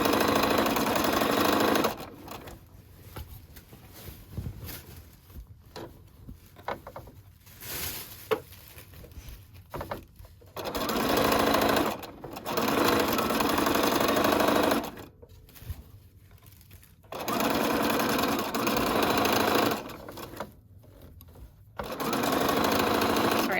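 A sewing machine stitches a seam on a McCall's 8358 wrap dress, running in several sustained bursts of steady whirring separated by short pauses, close and fairly loud.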